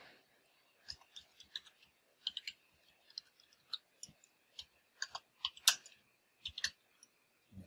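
Sparse, irregular clicks of typing on a computer keyboard in a text editor, faint and close, with gaps between keystrokes and a soft background hiss.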